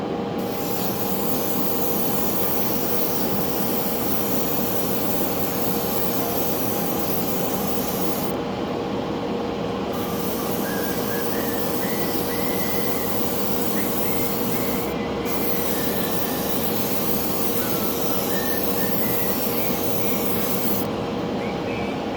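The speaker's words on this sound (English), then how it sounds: "I'm just going to turn on my other spray booth there" A spray booth extractor runs as a steady, loud broadband whoosh with a faint constant hum, continuous throughout, with a few brief dips where the airflow noise drops away.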